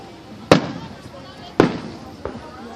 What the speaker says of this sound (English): Look at those fireworks.